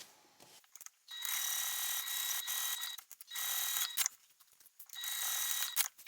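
A sewing machine stitches a zip wallet in three loud, steady bursts of whirring, separated by short quiet pauses.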